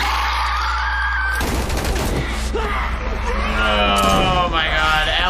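Gunshots ring out in a chaotic scene from a The Last of Us episode, sharp bursts mixed with shouting and frantic voices, loud and cluttered throughout.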